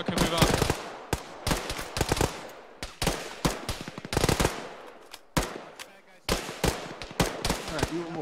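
Loud suppressive machine gun fire in an Arma ShackTac squad battle, repeated rapid bursts with short pauses between, some booming shots mixed in, close and dominant across the whole stretch.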